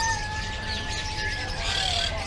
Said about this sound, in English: Wow, these parrots.